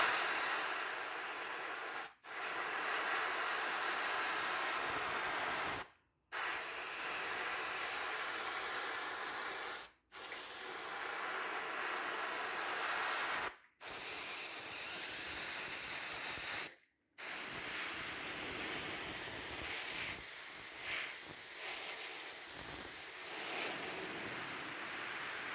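An airbrush sprays heavily thinned paint onto a VW Beetle Baja in a steady, close, broadband hiss, broken by several abrupt short pauses as the trigger is released.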